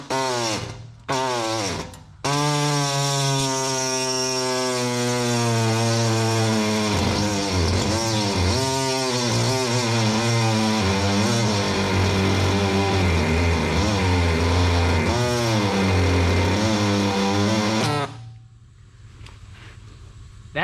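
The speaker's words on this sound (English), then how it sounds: "now we're ready to cut out the bottom notch using an air hacksaw" Air hacksaw cutting a notch in the sheet metal of a 1947–53 Chevy truck: loud, close, continuous rapid buzzing rasp with pitch wavering as the blade loads, after a couple of short bursts, then stopping abruptly.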